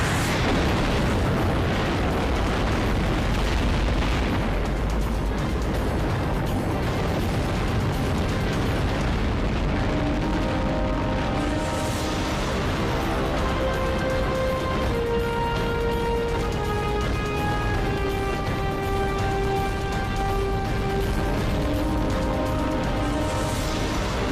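Saturn V rocket engines igniting and launching, a continuous thunderous roar that holds at full loudness for the whole stretch, with crackling bursts and tonal whines sliding through the rumble.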